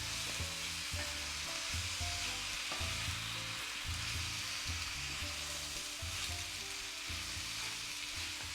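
Artichokes sautéing with onion in an open pan make a steady, even sizzle, with faint tonal sounds running underneath and no talk.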